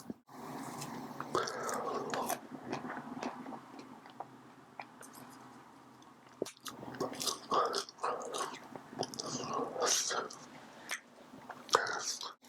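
Homemade popcorn, some from an air popper and some from a silicone bowl, being eaten up close: steady crunchy bites and chewing with soft mouth noises, a quiet voice murmuring now and then.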